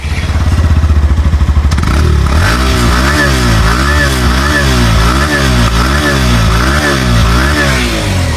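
A Hero Glamour X 125cc motorcycle engine starts and settles into a loud, close, steady idle with a rhythmic, pulsing exhaust beat and mechanical clatter throughout.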